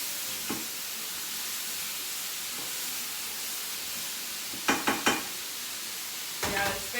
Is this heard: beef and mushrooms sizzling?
yes